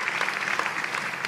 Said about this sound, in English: But we can have a round of applause.